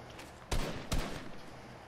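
Two loud gunshots in a video game squad match, fired about half a second apart, sharp and close, with a short echoing tail after each.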